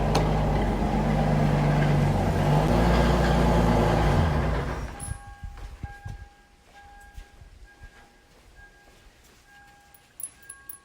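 A Lexus IS300 with a single-turbo 2JZ-GTE engine, running badly, rumbles loud and steady for about five seconds, then cuts off, leaving faint ticking and scattered small noises.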